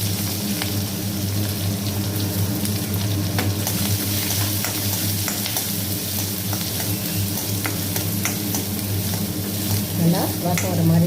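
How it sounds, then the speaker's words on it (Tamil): Onion with slit green chilies, cardamom and cloves sautéing in a pan for a wedding-style milk curry, a steady close sizzle with spatula scrapes and stirring clatter throughout. "நல்லா வாசம் வர மாதிரி வதக்கி எடுத்துக்கலாம்"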